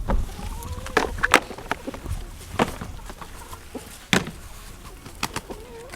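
Chickens on a winter homestead, with a kept rooster and several hens, cluck and call in short, scattered bursts, fairly faint and close by, with no talk over them.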